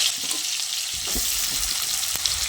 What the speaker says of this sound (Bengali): তেল খুব ভালোভাবে গরম হয়ে গেলে এবার আমি এখানে কিছু আলু দিয়ে দিচ্ছি